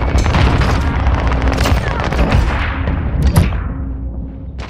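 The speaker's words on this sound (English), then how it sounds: "Throwing grenade." A grenade blast in Call of Duty Warzone, with a loud, dense explosive roar and rumbling crackle that sustains for several seconds, close and full, then slowly fades.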